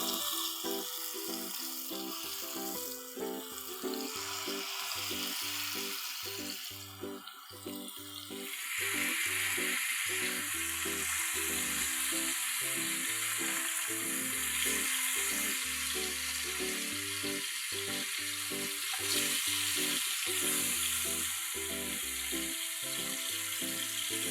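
Chicken sizzles in oil in a pan for dhaba-style butter chicken, a steady hissing fry that holds for the whole stretch, under a repeating musical pattern and with no speech.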